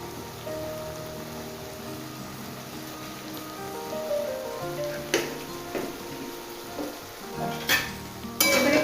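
Cabbage stalks simmering as a sweet-and-spicy chorchori curry are stirred in a pan while the water cooks off, with soft sizzling and a few sharp scraping clicks near the end over a steady faint background.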